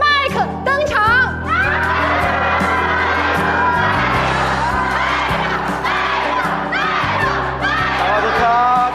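A crowd greets a singer's entrance at a fan signing event with loud cheering, shouts and whoops, excited voices rising and falling continuously for several seconds.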